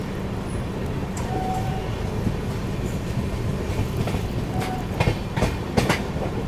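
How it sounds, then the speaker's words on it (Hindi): The Ganga Sutlej Express rolls along with a steady rumble and repeated clickety-clack wheel beats, heard from inside the coach as it nears the Sutlej river, with no talk. "अभी अपनी गंगा सतलज एक्सप्रेस क्रॉस करने वाली है सतलज रिवर को"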